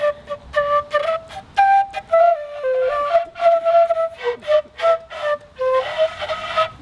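Bamboo flute played by a beginner, a series of short, wavering breathy notes with uneven pitch and stops between them, fairly close and alone.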